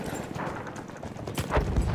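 Horse hooves clip-clopping at a steady pace in the video game Battlefield 1, fairly close, with a faint rustle underneath.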